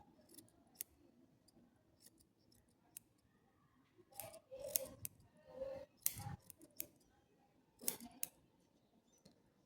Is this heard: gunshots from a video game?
no